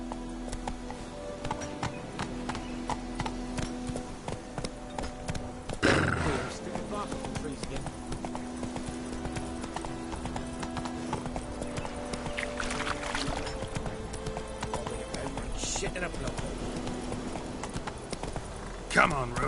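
Hooves of the horse Roach clip-clopping steadily in The Witcher 3, a continuous rhythmic gait with a brief whinny-like burst partway through, heard under spoken dialogue and background music.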